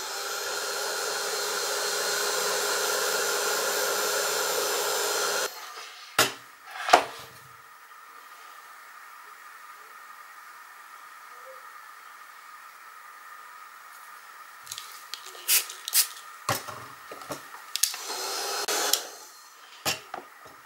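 A blower, probably a hair dryer, dries a dampened craft piece with a loud, steady hiss for about five seconds, then cuts off, followed by scattered clicks and handling noises.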